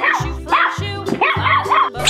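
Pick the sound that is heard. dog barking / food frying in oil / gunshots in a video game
dog barking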